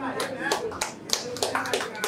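People at a birthday party clap in several short, uneven bursts, with voices speaking over and between the claps.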